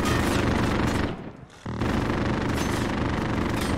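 Heavy automatic gunfire in Call of Duty Warzone, shot through a wall: a dense, loud, continuous barrage that dips briefly in the middle, then resumes at full intensity.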